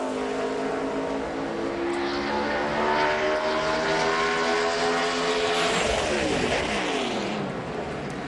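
A NASCAR Busch Series stock car at Gateway International Raceway runs a 2005 qualifying lap, its loud engine droning steadily, then sweeping down in pitch as it passes close by near the end.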